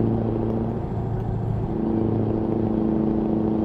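A Scania truck engine in Euro Truck Simulator 2 hums as a steady, loud low rumble with an even drone throughout, no voices over it.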